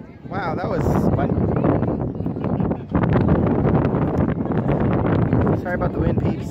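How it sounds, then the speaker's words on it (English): Gusty wind buffets the microphone outdoors at an air show in Albuquerque, New Mexico, loud rumbling bursts that rise and fall throughout while people talk underneath. "Sorry about the wind, peeps. It's kinda windy here today."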